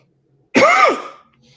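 A single loud throat clearing after vaping, one rough cough-like burst lasting about half a second that fades quickly into silence, close and alone.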